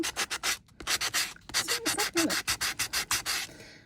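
A tin surface is buffed by hand in quick, steady rubbing strokes, about a dozen rhythmic rasping passes, close and clear with no talking.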